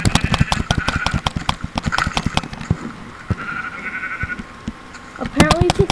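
Sheep in the Minecraft video game bleat repeatedly among sharp clicking and hitting sounds, several short bleats spread across the clip with a steady low hum underneath.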